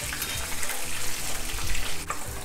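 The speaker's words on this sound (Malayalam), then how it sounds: "മാക്സിമം ഒരു 3 മിനിറ്റ് ഫ്രൈ ചെയ്താൽ മതി" Whitebait (netholi) fries in hot oil with a dense, steady sizzle and bubbling, close and fairly loud, with a few faint stirring knocks and no voices.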